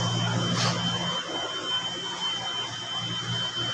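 Loud steady exhaust roar at a power plant parking lot on Rockwell Drive, a constant broadband rushing drone with a faint high whine, heard up close without pause.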